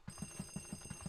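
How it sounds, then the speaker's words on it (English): Electronic telephone in Luigi's Mansion 3DS ringing with a rapid, steady trill of evenly spaced pulses over a sustained high tone, moderately loud and alone. "And yeah, the phone is ringing"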